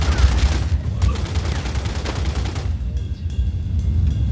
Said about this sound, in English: I'll cover you by shooting that guy in the face and that guy in the chest